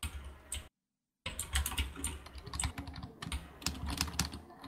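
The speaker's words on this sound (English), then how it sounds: "Quiet typing." Computer keyboard typing during a Garry's Mod Jenga game session, with rapid, irregular soft key clicks close by, briefly broken by a short gap of silence.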